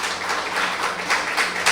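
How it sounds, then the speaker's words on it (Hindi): An audience at a shayari poetry gathering claps for a poet, a dense, brief burst of applause with no voices over it. "ज़ोरदार तालियों के साथ।"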